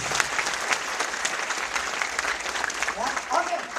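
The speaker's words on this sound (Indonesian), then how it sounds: "Tepuk tangan bagi Tuhan Yesus." A church congregation at a worship session in Manado applauds in a continuous, dense round of clapping at moderate volume, with a voice faintly heard near the end.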